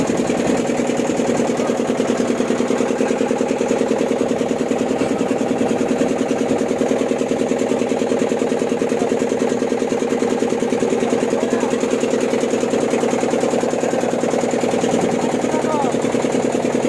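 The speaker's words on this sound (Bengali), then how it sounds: "আমাদের নৌকা ছাড়লো এখন" A boat engine runs steadily on the Ganges, a loud continuous mid-pitched drone with rapid mechanical chugging throughout, close by and unbroken for the whole stretch.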